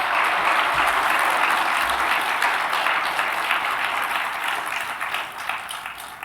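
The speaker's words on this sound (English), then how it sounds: "Give yourself a round of applause." Audience applause fills a hall at a libertarian talk, dense steady clapping from a large crowd that holds loud throughout and fades slightly toward the end.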